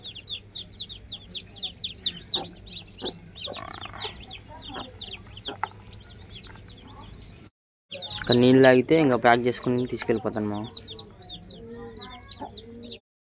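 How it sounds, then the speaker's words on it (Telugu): Chicks cheep busily throughout as they are let outdoors while a hen clucks loudly, with someone talking over them partway through. "కోడి పిల్లలని బయట వదులుతున్నాను, చూడండి"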